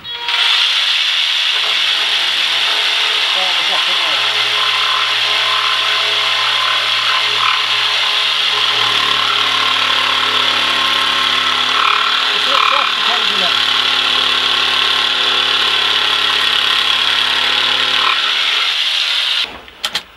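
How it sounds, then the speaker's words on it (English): A jigsaw cuts wood for dovetails in a door frame during the restoration of an 1875 Norwegian log house. The buzzing, rasping cut runs loud and close for about twenty seconds, with a low tone underneath, then stops abruptly. "Jigsaw."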